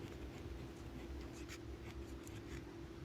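A pen scratches out a calculation on paper in quick, faint strokes over a steady background hum, close and with no talking.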